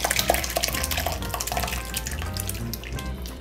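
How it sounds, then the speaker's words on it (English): Liquid pours and splashes steadily through a strainer lined with damp cheesecloth, a continuous watery trickle with light clinks from the container, close up, while preparing a Bhutanese dish in a kitchen. "We're gonna pour this through a strainer lined with damp cheesecloth."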